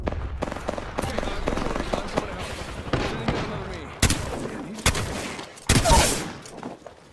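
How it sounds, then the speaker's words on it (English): Rapid bursts of gunfire and explosive blasts from a battle royale video game, dense and loud throughout, with sharper cracks and a heavier blast near the end. "The enemies are shooting at me."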